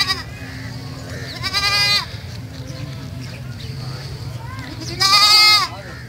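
Desi goats at a livestock market in Lahore let out two loud, wavering bleats a few seconds apart, close by, with people talking over a steady crowd murmur.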